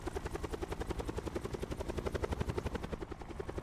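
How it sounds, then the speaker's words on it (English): A video game helicopter's rotor chops steadily and loudly, close by, with a fast regular thudding throughout and no voices. "Fucking helicopter."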